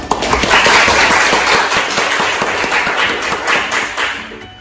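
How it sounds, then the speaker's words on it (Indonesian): A group applauds during an Islamic religious education teaching practice lesson in a classroom, with dense, steady clapping that runs through the whole stretch and eases slightly near the end. "tepuk tangan buat kita semua"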